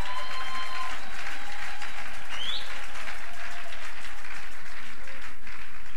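A church congregation applauding, dense steady clapping from many hands that fills the space continuously at high volume, with a few voices mixed in.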